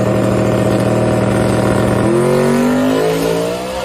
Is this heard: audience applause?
no